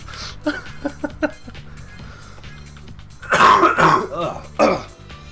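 A few short, raspy throat clearings and coughs near the microphone, separated by pauses, the last ones louder and harsher.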